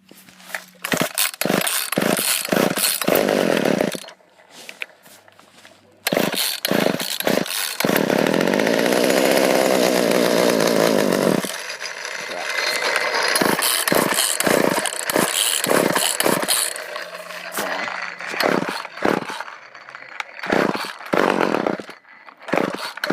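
A Poulan Wood Shark 1800 chainsaw with a 14-inch bar size, started cold: several sharp pull-cord rasps, then the two-stroke engine catches, revs loudly, idles, and revs again in close, continuous bursts.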